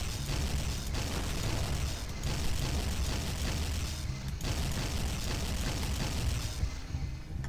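Explosive alien rifle shots fired in Garry's Mod with the NeuroTec 2017 weapons addon, a dense, continuous roar of booming blasts and mechanical clatter running loud and steady throughout with brief dips.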